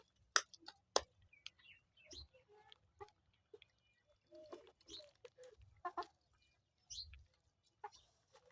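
Chickens clucking softly and intermittently while feeding in a low-cost backyard poultry setup, with scattered short calls and pecking sounds over quiet background.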